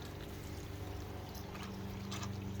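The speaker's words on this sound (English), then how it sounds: "It's pumping the nutrients up through the filter, up through the main line, feeding each tube." In a hydroponics system, a pump pushes nutrient water through a filter and main line into the growing tubes, giving a quiet, steady pouring and trickling wash with a faint low hum beneath it.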